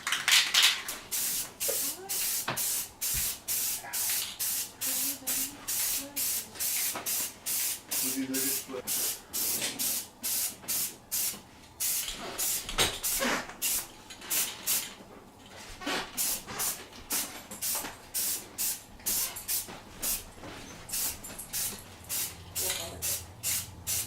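Rapid, rhythmic bursts of hissing spray paint applied as a second coat on a kettle grill chair, each short blast close and loud, repeating steadily with brief gaps throughout.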